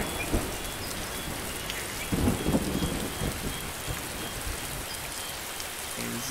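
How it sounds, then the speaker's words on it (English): Torrential rain and thunder in the video game Lost Shipwreck, a dense continuous downpour hissing throughout with a heavy rumbling thunder swell near the middle and softer rolls after. "This torrential downpour is insane right now."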